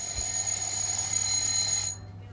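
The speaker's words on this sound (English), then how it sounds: "While I was snapping Gia, the timer went off for the cake." Kitchen timer alarm going off for a baking cake, a loud, steady high-pitched electronic ring that continues without a break, then cuts off abruptly near the end.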